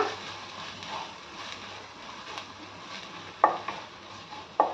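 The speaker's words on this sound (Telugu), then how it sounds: "అల్లము ఉల్లిపాయ పుదీనా బాగా వేగి నూనె విడుదల చేసే వరకు వేయించుకోవాలి మంచిగా స్లోగా." Ginger-garlic paste, onion and mint fry slowly in oil for a Telugu chicken curry, giving a soft steady sizzle with faint stirring, and two sharper clinks of a utensil against the pan near the end.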